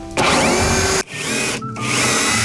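A power drill backs out the screws holding an asbestos roof sheet, whirring loudly in two long bursts with a brief stop between them and a short gap near the end.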